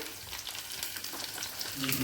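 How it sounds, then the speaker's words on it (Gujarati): Mustard seeds, a chili and sesame seeds crackle and sizzle steadily in about half a spoon of hot oil, a tempering for vegetable dhokla, with close frying hiss and popping throughout and no voices. "અડધી ચમચી જેટલું તેલ લીધું છે, એમાં રાઈ નાખી છે, અને હવે એમાં આપણે મરચાં નાખીશું."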